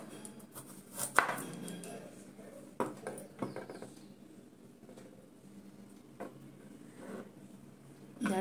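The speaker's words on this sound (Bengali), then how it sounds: "আদাটাকে কেটে নিই।" A kitchen knife chops fresh ginger on a board for a five-lentil dal tarka: scattered, irregular thuds, a couple of quick cuts together and then single chops at uneven intervals, close and fairly soft, with no talking.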